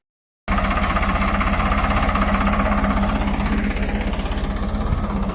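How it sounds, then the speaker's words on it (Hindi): Farmtrac 60 tractor engine running steadily at a fixed speed in a field during soybean sowing, a loud, close, rhythmic diesel chug that starts abruptly and continues without pause. "मैं अब आपको ट्रैक्टर से वो बिजाई करके बता रहा हूँ डेमो के तौर पे"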